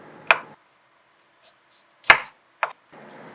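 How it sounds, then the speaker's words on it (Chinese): A knife cuts the ends off water chestnuts on a board: three sharp, close chops spaced apart, with faint rustles of handling between them. "首先，我们切掉马蹄的结尾"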